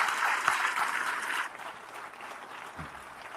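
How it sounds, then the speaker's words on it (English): An audience at a webinar session bursts into moderate applause that breaks off after a second or so, leaving a quiet room with a faint thump. "Let's applaud those senators and congressmen."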